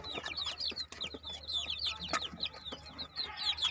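Young chicks in a rearing pen chirp continuously in a dense chorus of high, rapid peeps, close and lively, over a low steady background hum.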